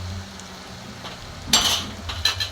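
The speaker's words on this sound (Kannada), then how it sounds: "ಈಗ ಚಮಚ ಆಡಿಸ್ತಾನೆ ಇರಬೇಕು." Spices frying in oil are stirred with a spoon in a pan, giving a low sizzle broken by a couple of sharp metal scrapes and clinks against the pan.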